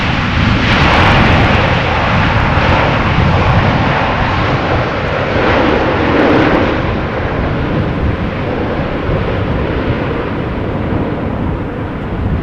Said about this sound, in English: It's a 777 freighter, 10 years old.